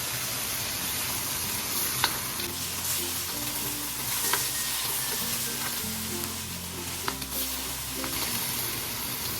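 Chicken for bopis sautés in a hot pan just after fish sauce is poured in, a loud continuous sizzle up close with occasional clinks and stirring scrapes, no voices.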